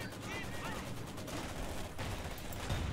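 MG34 machine gun fire in a World War II-style video game, a dense spread of distant bursts and shots under a steady battle din, quiet overall, with people talking over it.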